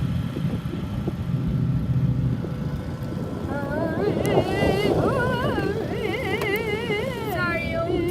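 Traxxas Slash RC car with a brushless motor and added engine sound effects, a steady close electronic engine drone with revving, wavering tones that rise and fall in pitch, while voices talk over it.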